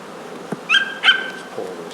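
Honeybees buzzing around a newly installed five-frame nuc colony outdoors, a steady insect drone with two brief louder swells and a faint dog sound in the background.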